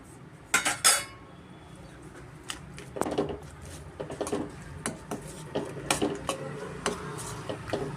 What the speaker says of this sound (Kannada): ಇವಾಗ ನಾವು ರೈಸು ಕಲಿಸ್ಕೋಣ